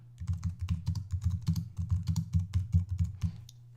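Rapid, steady keystrokes on a computer keyboard as a short profile tagline is typed, close and clear with no talking, the clicks running in quick bursts for about three seconds before stopping.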